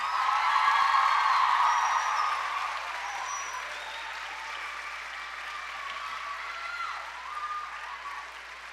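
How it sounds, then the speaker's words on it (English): Applause fills a middle school choir concert hall as the crowd claps for the staff. It starts strong, then settles into a softer, sustained patter, with faint cheering in the background. "Would you give them one more round of applause"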